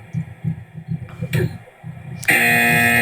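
A loud, sustained buzzer blares suddenly near the end, cutting in after low rhythmic thumping and crowd noise.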